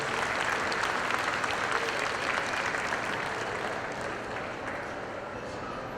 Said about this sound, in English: If you would give the breeders, the exhibitors, the people that look after these cows all the time a nice big round of applause